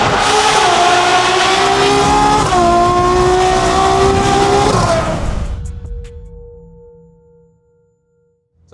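A Koenigsegg Jesko supercar's engine roars loud and close in Dubai, holding a high, strained rev with a brief dip before climbing again. It then fades away into near silence, and a short noise follows at the end.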